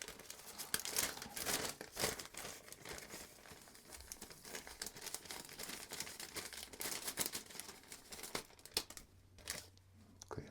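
A huge plastic bag full of KM ceramic capacitors is handled close up, giving loud, irregular crinkling and rustling bursts over about ten seconds with brief pauses between them.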